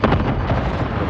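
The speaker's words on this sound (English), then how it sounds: "Hostile Explosion." A deep, rumbling explosion in a video game roars densely and loudly, a sustained low blast with no speech over it.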